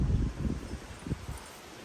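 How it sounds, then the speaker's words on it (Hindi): Strong wind gusts buffet the microphone outdoors in the hills of Yercaud during bad weather, coming as low, rumbling bursts in an irregular rhythm over a steady rush, with no talking. "इतना जोर का हवा चल रही है।"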